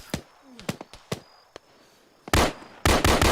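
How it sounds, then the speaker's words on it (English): Grenade detonations in Arma 3 military simulation gameplay: scattered sharp cracks of gunfire early on, then two heavy, loud blasts close together near the end, each with a rumbling tail. "Grenade out."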